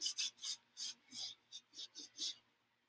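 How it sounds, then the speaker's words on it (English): A rag rubs wax into a painted surface in close, rhythmic strokes, about ten soft raspy swishes in quick succession, each ending in a brief pause. "Take your rag, rub it in"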